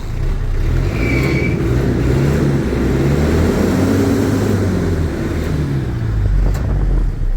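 A Hino FC9J six-wheel truck, a 2014 model with a 6.60 m cargo bed, idles with a steady, smooth low diesel rumble that stays close and continuous throughout, with no voices over it.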